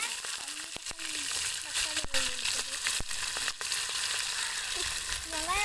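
Onions sizzle steadily in hot oil in a frying pan already holding cloves and cinnamon, with a constant crackling hiss, sharp pops and stirring clicks, while people talk in the background.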